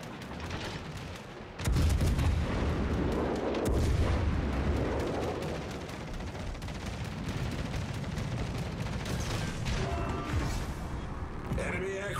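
Anti-aircraft guns on the British tier 5 cruiser Devonshire in World of Warships fire in rapid, overlapping bursts with booming thuds, a loud dense barrage that eases into a lighter crackle, with a voice speaking underneath.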